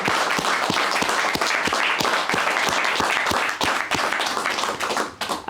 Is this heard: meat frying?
no